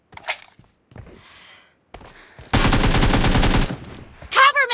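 Automatic weapon fire in the mobile shooter PUBG Mobile erupts as a loud, rapid burst of shots in a team deathmatch, preceded by faint footsteps and short thumps, with a brief voice near the end.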